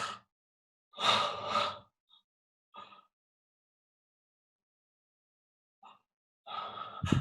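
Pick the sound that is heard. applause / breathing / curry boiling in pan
breathing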